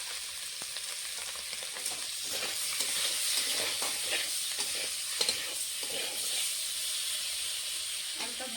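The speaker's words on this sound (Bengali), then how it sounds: "আলুটা ভাজা হোক ততক্ষণ আমি এখানে লঙ্কাটা কেটে নিচ্ছি।" Potatoes seasoned with turmeric and salt fry in a pan, a moderate, continuous sizzle with occasional stirring scrapes and sharper pops.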